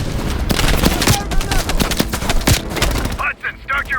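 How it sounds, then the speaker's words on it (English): Heavy machine gun fire in the Call of Duty Black Ops Cold War video game, a loud, rapid string of shots with booming impacts, followed by voices talking as the firing stops. "Heavy MG on the ridge"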